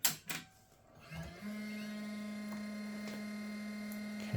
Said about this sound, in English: Okay, so we've got a fairly loud processor fan.